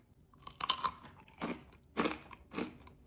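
Close-up crunching of a crisp snack being chewed, with a few sharp bites followed by irregular crunchy chews and quiet pauses.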